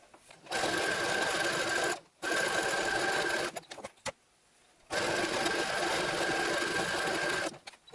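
Sewing machine stitching wraps for a Tusken Raider costume in bursts of steady whirring, pausing briefly between runs and falling silent for about a second before restarting.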